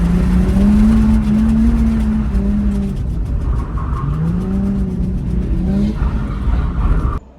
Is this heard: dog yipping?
no